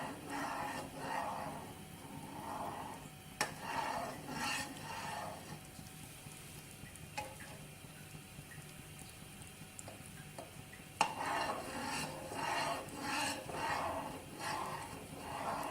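Thickening milk for rabri stirred steadily in a pan, a soft scraping and bubbling texture with occasional light clinks, close and fairly quiet under a woman's speech.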